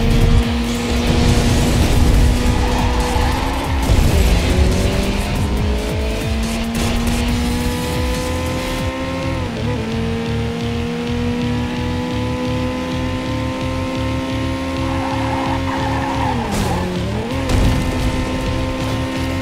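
Loud racing car engines roar and rev in Ridge Racer Driftopia, pitch dipping and rising repeatedly as tires squeal through drifting turns.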